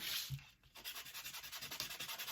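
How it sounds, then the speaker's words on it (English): Sandpaper rubbed by hand over a Dollar Tree sign: after a brief pause, a rapid run of short, even back-and-forth scratching strokes, close and fairly quiet, with no voices. "kind of sand it a little bit and see how that looks"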